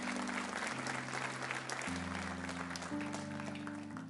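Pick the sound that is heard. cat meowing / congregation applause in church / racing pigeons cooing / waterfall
congregation applause in church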